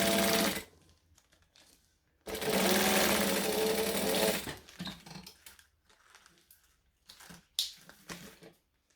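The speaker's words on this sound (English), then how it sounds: "then top stitch along that top edge" A sewing machine top stitches along the edge of a fabric bag in short, rapid bursts of close mechanical whirring, with quiet pauses and small handling noises between runs.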